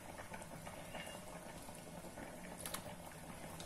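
A pot of Thai sour curry with pomelo peel simmers at a steady boil, a soft continuous bubbling and hiss with a few brief clinks, close and fairly quiet, no talk.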